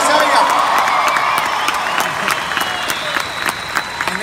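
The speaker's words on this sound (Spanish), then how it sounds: "Fuerte el aplauso a Nita Nazario" A studio audience applauding and cheering for a guest on a live entertainment show, dense loud clapping with whoops throughout while a voice speaks over it.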